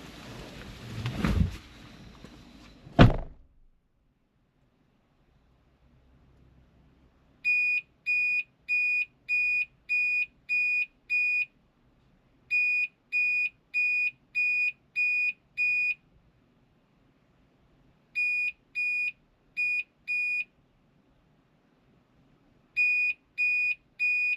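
A camper van's AI CCTV system sounds its alarm in steady groups of short, high electronic beeps, roughly eight per group with pauses between, after a burst of rustling handling noise at the start.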